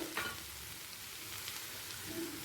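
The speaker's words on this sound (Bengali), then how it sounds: "মিডিয়াম ফ্লেমে দু মিনিট ভাজা হয়ে গেছে" Potatoes fry in a pan over a medium flame, giving a steady, soft, even sizzle throughout with no voices.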